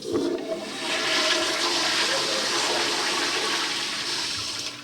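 Toilet flushed during cleaning, a loud close rush of water surging for several seconds and then slowly easing off.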